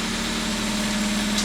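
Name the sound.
garbage truck engine idling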